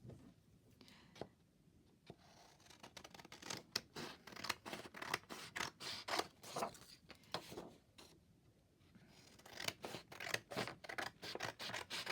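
Scissors cut a picture out of a glossy magazine page, crisp snips and sliding blade sounds coming in quick bursts with short pauses, close up, with soft whispery talking at times.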